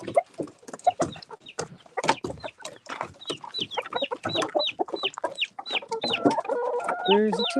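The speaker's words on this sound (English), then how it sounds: "Chickens know what they're getting." Chickens cluck nearby in a busy, steady run of short clucks that grow denser and louder toward the end.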